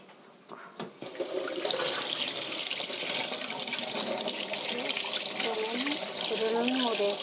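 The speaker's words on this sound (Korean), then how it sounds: "먼저 재료를 씻어 보겠습니다." Running tap water splashes steadily into a sink as cooking ingredients are rinsed, a loud continuous hiss and gurgle with a few clunks at the start, close by and with no talking.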